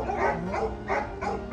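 A big dog barks four times in quick succession, each bark close and loud over a low background rumble.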